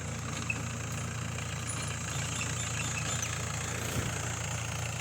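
A Mahindra 575 DI tractor runs in farmland, its diesel engine giving a steady, low, unbroken drone at moderate distance, with no voices over it.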